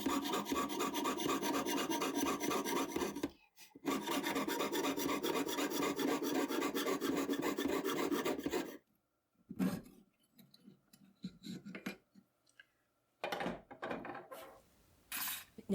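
A jeweler's saw cutting silver sheet braced on a bench pin, fast rhythmic rasping strokes in long bursts broken by short pauses, then shorter choppy passes toward the end, close and clear.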